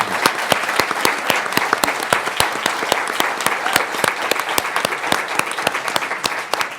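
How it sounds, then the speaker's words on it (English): An audience at an annual law school evidence competition claps steadily, a dense loud patter of hands that carries on without a break for several seconds. "She deserves a huge round of applause."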